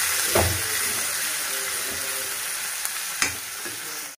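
Jackfruit seed masala curry fries in a pan with chilli powder being mixed in, a steady close sizzle and hiss punctuated by a few sharp spatula knocks, heard without talk.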